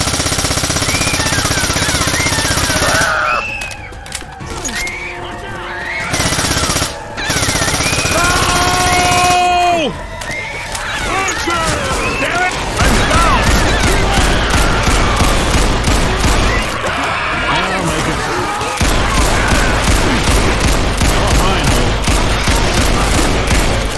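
Rapid bursts of gunfire in the Left 4 Dead 2 zombie shooter, dense overlapping shots with loud rattling stretches broken by brief pauses, continuing for most of the clip without talk.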